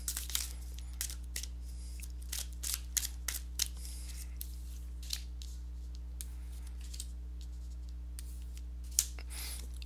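Tarot cards shuffled and drawn for a weekly reading, a run of quiet, separate papery snaps and flicks scattered through the clip over a steady low hum, with no talking.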